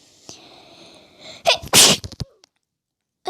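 A person sneezes once, loudly and close, while playing a parkour video game, preceded by a quiet hum and followed by a brief stray noise.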